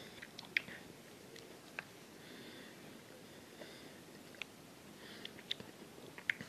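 Jolly Rancher soft candy, watermelon and sour apple flavors, is chewed close to the microphone in quiet bursts of sticky bites, smacks and a sniff, with no talking.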